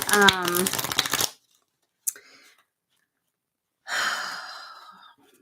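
Playing cards shuffled for a tarot-style card reading, a quick riffle burst first, a brief snap midway, then a longer rustling shuffle near the end, with silent gaps between.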